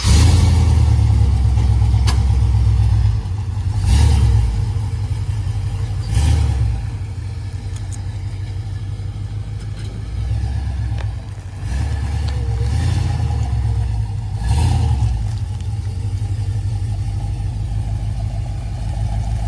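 A car engine revs in several loud bursts over a steady low idle rumble, rising and falling a few times as the car is moved, close and with no talk.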